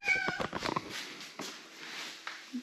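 A cat on an off-grid farm meows loudly and close by, a few quick, strained cries at first, then softer trailing mews and a brief chirp.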